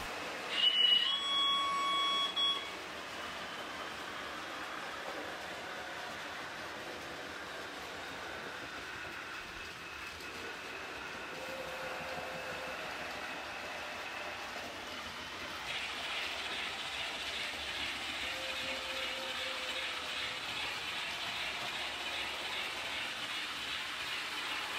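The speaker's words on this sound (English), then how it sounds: "Along the route I have included functions such as the train whistling and turning the loco and carriage lights on" Model train running on a computer-controlled layout, with continuous quiet rolling and track clatter, a short burst of higher chirping sound near the start and faint brief tones later.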